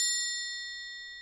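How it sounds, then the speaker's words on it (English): A bright triangle sound effect from a streaming app rings out once, a single metallic ding that sustains and slowly fades across the clip, clear and alone with no talking. "Okay, triangle."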